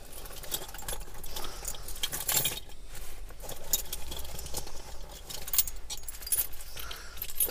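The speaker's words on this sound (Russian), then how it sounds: "Сейчас найдем ключи и попробуем примерить туда" Keys being fished out and jangling, with a steady metallic clinking and rustling through the whole stretch, close and fairly quiet.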